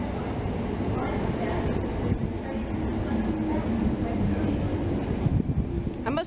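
A Thameslink train pulling out of Elephant and Castle station rumbles and clatters steadily on the rails from inside the carriage, a low continuous drone with faint talk in the background.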